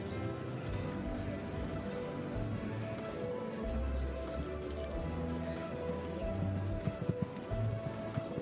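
Horse hooves strike the footing in a slow, even walk rhythm in a dressage arena during a young-horse breeding championship, soft distinct thuds over a low background hum with no speech.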